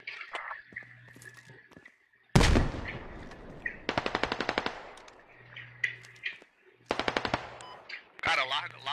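Bursts of rapid automatic gunfire and single shots trade back and forth in a realistic shooter game, loud and close, with quiet gaps between volleys and brief voices in between.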